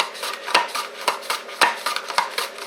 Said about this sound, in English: I got a little mandolin here. And I just run them up and down because it calls for thinly sliced cucumbers.